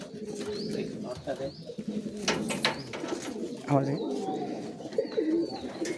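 Giribaz pigeons coo in low, throaty bursts close by, with other birds chirping and a voice murmuring in the background.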